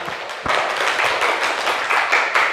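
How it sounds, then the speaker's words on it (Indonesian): A small classroom of schoolchildren claps, sharp irregular hand claps starting after a brief pause and continuing fairly close and loud to the end. "Beri tepuk tangan kepada kita semuanya"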